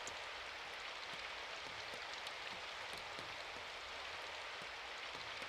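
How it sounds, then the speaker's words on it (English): Steady rain pours in the video game Symphonic Rain, an even dense hiss with faint scattered drops. It runs unbroken and fairly soft throughout, with no voices. "At some point, I had moved slightly into the rain."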